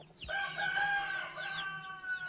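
Chickens cluck and a rooster crows loudly and close by, a sustained crow over scattered clucking, in an abandoned village left behind in a mass flight.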